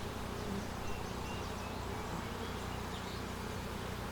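Honey bees drone steadily around an opened hive with plastic frames, a dense, continuous buzz close by, with no voices.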